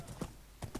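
Horse hooves clip-clop in the Minecraft video game, two quick pairs of soft thuds, faint and brief against a low background hum.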